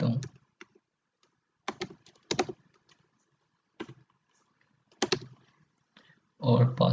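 Bursts of computer keyboard typing while entering a Wi-Fi network name during router setup on a PC, clustered keystroke runs separated by pauses, close and fairly loud.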